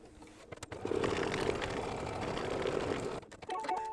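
An embroidery machine tacks down background fabric on a quilted mug rug at a color stop, giving a steady, close mechanical stitching whir that runs for about three seconds with brief pauses at the start and near the end.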